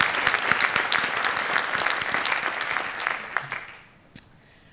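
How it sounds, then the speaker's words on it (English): A forum audience gives a dense round of applause that holds for about three seconds, then tapers off into a few scattered claps and near silence. "let's just give them a round of applause"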